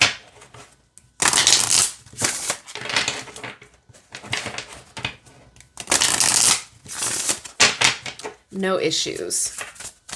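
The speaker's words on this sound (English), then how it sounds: "And they are fine shuffling like this as well, side to side." Witching Hour Oracle cards of tarot size are shuffled side to side by hand, giving bursts of crisp riffling and flapping separated by pauses, with a person speaking briefly between them.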